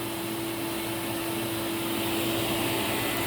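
A Rotho (Thomas) Twin Electro+ vacuum cleaner runs continuously at close range, a steady loud motor whine with a constant airflow roar and no change in pitch.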